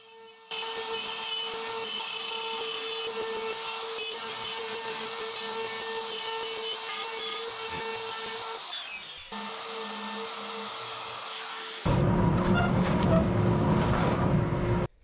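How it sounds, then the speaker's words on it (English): A handheld router cuts bow-tie recesses into a pecan wood slab, a loud, steady high-pitched whine and grinding that runs throughout, with a brief break and a change to a rougher, heavier cutting tone near the end; no talking. "then used the router to route out the holes for them"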